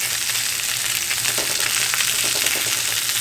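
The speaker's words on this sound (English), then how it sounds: "So I'm going to put these onions on here anyway." Onions for Maxwell Street Polish sausages sizzle and crackle steadily on a hot griddle, a close, continuous frying hiss with small pops throughout.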